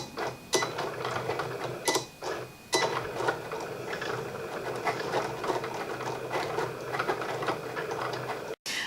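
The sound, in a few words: Cricut machine cutting foil vinyl with deep cut blade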